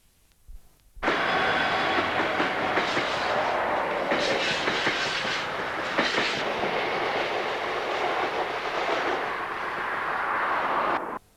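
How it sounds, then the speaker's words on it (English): A freight train of empty coal wagons rumbles past close by near the Port of Immingham for about ten seconds, with a steady rattling roar and clanking wagons before it cuts off abruptly. "The oil train is soon followed by coal empties, bound for the port of Immingham."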